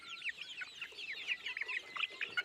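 Colourful free-range country chickens and a rooster cluck steadily, with a dense run of short, bright, overlapping calls at moderate distance and no talk.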